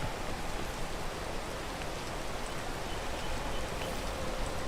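A waterfall in the PEAK climbing game rushes and hisses in a steady, unbroken wash of noise, moderately quiet and constant throughout, with no voices.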